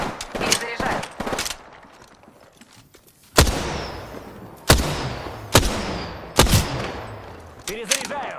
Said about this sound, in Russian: По мне стреляют какие-то дурилки